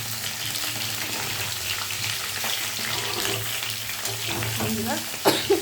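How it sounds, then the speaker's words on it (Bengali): Jackfruit and potato frying in a pan, a steady broadband sizzle with occasional stirring scrapes and a couple of sharp utensil knocks near the end. "এবার একটু ভালো করে ভেজে দিই।"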